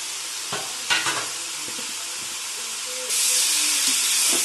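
Spinach, mustard greens and bathua hit a hot frying pan with a burst of sizzling and a few clattering stirs, then a steady hiss that gets louder and denser toward the end.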